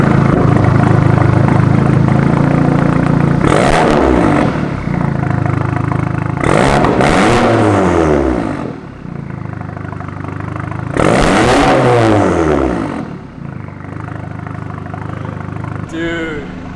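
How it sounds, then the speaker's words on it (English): Audi with a Borla catback exhaust and APR Stage 2 tune revs hard three times over a steady idle, each loud sweep rising and falling, with a brief pop near the end. "Yeah, that's a good sounding exhaust, gotta say."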